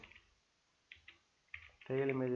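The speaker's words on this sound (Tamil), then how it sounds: "டைப் பண்ணிடுறேன்" Computer keyboard typing in MS Word, a few soft scattered key clicks in short bursts, followed by a voice starting to speak at the end.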